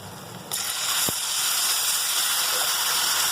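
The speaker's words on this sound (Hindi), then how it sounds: "तो अब मैं इसके अंदर पानी ऐड करूंगी" Water poured into hot roasted semolina for halwa sets off a sudden loud hiss and sizzle of steam, which then stays as a steady, bright sizzling gush until the end.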